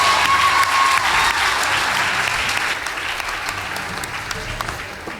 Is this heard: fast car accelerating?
no